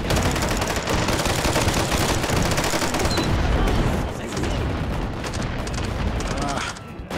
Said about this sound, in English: I'm gonna rocket sticky jump.